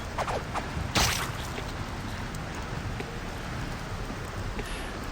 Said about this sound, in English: Now that sounds like a waterfall.